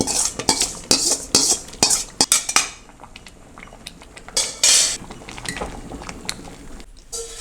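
A metal spoon scrapes and clinks rhythmically against a pot as fried tempering is stirred into sambar, a quick run of clatters that eases into slower, scattered stirring with one louder scrape.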